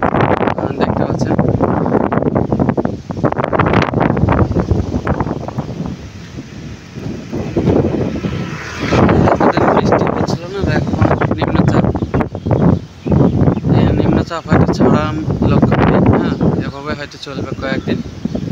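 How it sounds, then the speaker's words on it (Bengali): Strong, gusty wind from Cyclone Remal at Digha buffets the microphone in heavy, rumbling bursts, with a person speaking over it. "তার সাথে ঝড়ো হাওয়া বইছে"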